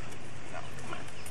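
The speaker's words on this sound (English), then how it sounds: "she barks, but she doesn't speak" A pet dog yips and barks a few times indoors at a family birthday gathering in 1990, short, fairly close sounds over a background hum.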